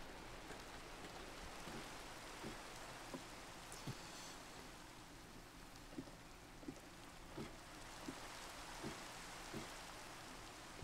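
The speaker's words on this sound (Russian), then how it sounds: "Может, дождь выключить?" Steady soft rain falls in a Minecraft world, a faint even hiss with occasional small taps and no voices.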